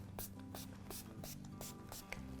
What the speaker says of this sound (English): I'm gonna go ahead and spray that rubbing alcohol all over.